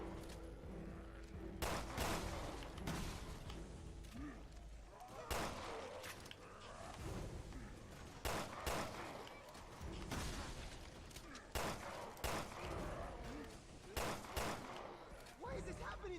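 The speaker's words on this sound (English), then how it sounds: "You can start shooting, my guy. You have a shotgun." Repeated shotgun blasts from a video game fire in irregular bursts throughout, loud and close, each a sharp broadband crack, with voices talking in between.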